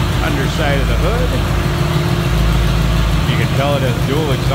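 A 1971 Chevrolet Nova with a 350 V8 and dual exhaust idles steadily with a low, even rumble throughout, while someone talks over it.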